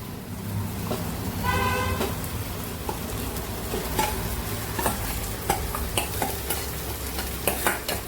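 Marinated chicken hits a clay pot and sizzles, then gets stirred with scraping, clattering strokes over a continuous frying hiss, close and fairly loud.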